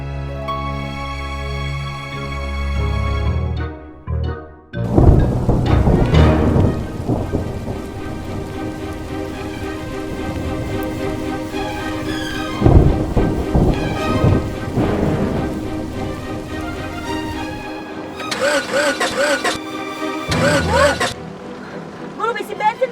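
A thunderstorm with steady heavy rain hissing throughout, broken by several loud, rolling thunder crashes, up close and dominating.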